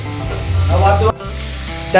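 Loud, steady sizzling in a hot pan of crab fry with a brief dip midway and a clatter at the end, as two tomatoes are added and frying continues.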